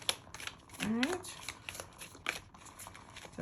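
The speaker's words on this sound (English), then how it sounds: "They're hard to shuffle. They're all little hexagons, so we have to overhand shuffle them." Hexagon-shaped tarot cards being overhand shuffled, a run of quick papery riffles and slaps at close range, with a voice talking over parts of it.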